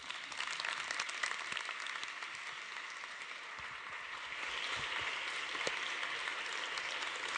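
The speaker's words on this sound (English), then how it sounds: "Just keep clapping, you're good." A conference audience applauds steadily at a closing plenary, a dense, even wash of clapping that stays fairly quiet throughout with no voices.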